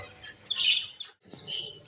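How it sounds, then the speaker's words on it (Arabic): A small goldfinch-canary hybrid chirps in bright, high trills, two short phrases separated by a brief pause, fairly close and clear. "وصوته كثير حلو، بيجمع بين الحسون والكنار."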